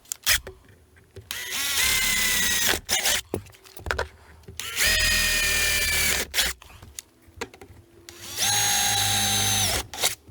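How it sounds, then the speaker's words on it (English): A power drill with a 3/16 bit bores holes for a Maxx Air vent cover, three separate whining bursts of a couple of seconds each, close and loud, with brief pauses and handling noise between. "grab that 3/16 drill bit and drill all four holes"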